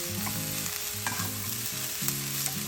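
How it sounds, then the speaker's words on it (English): Snap peas, mushroom and sweet pepper stir-fried in a pan for chicken chow mein, giving a steady close sizzle with scraping stirring strokes throughout, no voices. "snap pea, mushroom, and sweet pepper. Stir all the time. Cook for 1 minute."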